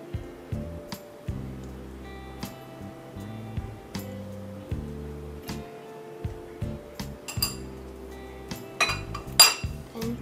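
A spoon or utensil clinks repeatedly against a bowl while laphing ingredients are mixed with salt and ajinomoto, with irregular sharp taps and scraping strokes up close, growing busier toward the end.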